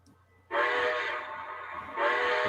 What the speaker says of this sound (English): So here's the first whistle.